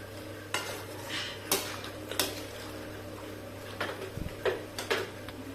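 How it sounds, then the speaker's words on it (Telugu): Boiled mutton pieces are stirred into curry masala in a pan, giving soft scraping and sticky stirring sounds with a few sharp clicks of the spoon against the vessel and a low sizzle underneath. "ఇప్పుడు దీన్ని బాగా కలుపుకుందాం."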